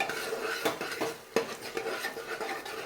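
A spoon scrapes and stirs chopped tomato into cooked masala in a metal pan while making vegetable biryani, with close, uneven clinks and knocks over a soft sizzle, no voices.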